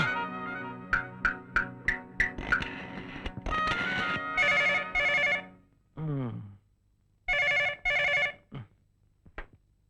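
A telephone rings in repeated short bursts of bell tones, followed by a brief tonal swoop and two more loud rings with faint trailing tones.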